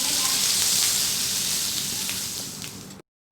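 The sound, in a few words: red chilli chicken frying on medium flame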